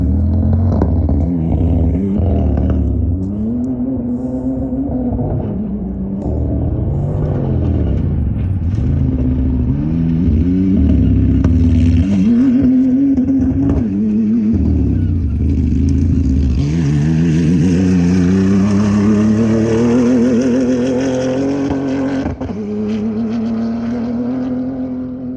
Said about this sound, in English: you hear some of the Chinese cars, and it sounds like something with a cylinder that dropped with marbles in it